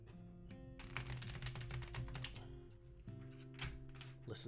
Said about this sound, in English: Listen to those cards clop